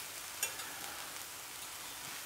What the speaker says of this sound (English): I am just flipping over these mushrooms and zucchini.